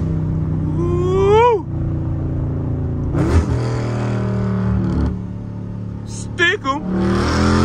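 A car in a rain-soaked drift run revs up in a rising whine, then drones and rumbles through gear changes, with someone talking over the engine throughout.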